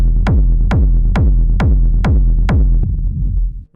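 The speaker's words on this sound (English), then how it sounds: "And we're going to combine a reverse reverb with the low end of the kick." Six evenly spaced deep kick drum hits blended with a reverse reverb preset, each a booming thump with a swelling low rumble, loud and rhythmic before cutting off abruptly near the end.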